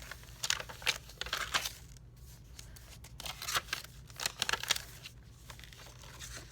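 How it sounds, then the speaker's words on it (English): Scissors snip along the edges of paper pages in a vintage-style handmade journal, with a series of crisp close cuts and light paper crinkles in a quiet room. "I did just stress the edges even more by cutting them with these scissors"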